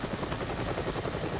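Helicopter flying over a forest logging site, with a loud, steady rotor thump and engine drone filling the whole stretch and no other sounds.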